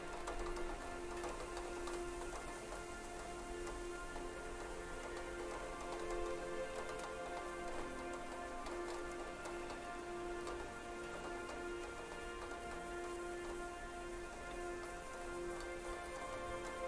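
Steady rain patters evenly on surfaces throughout, a constant dense hiss of drops with no voices and a faint tonal hum beneath.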